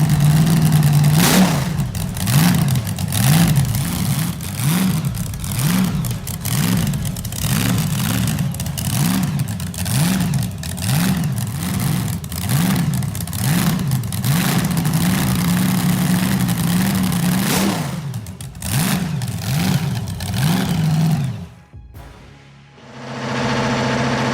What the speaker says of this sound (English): shaking the ground with brutal low-end torque and that unmistakable thunderous idle